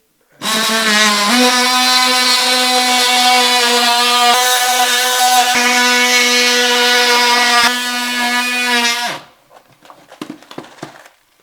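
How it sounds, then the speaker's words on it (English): An oscillating multi-tool cuts through water-damaged drywall along the wall perimeter above the molding with a loud, steady, high-pitched buzzing whine for about eight seconds. It then cuts off, leaving a few faint clicks. "So I'm going to use my multi-tool and run around the perimeter here, above the molding, along the corner"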